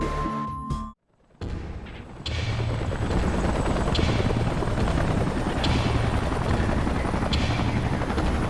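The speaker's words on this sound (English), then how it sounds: "Let's call in the salvage choppers and get it out of here." Salvage helicopters arrive in the video game Xenoblade Chronicles X: after a brief drop to near silence, loud, close rotor thumping rises and holds steady with a continuous chopping pulse and no talk.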